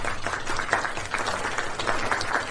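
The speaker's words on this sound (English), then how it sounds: "Let's give him a round of applause." Office colleagues applauding together at the head office, a steady patter of many hands clapping at moderate loudness that carries on without a break for the whole stretch.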